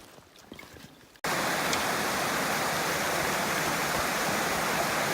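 Steady rushing of flowing creek water, loud and close, a broad continuous wash after a brief quieter opening, where Garden Creek meets Pipe Creek on the Bright Angel Trail in the Grand Canyon.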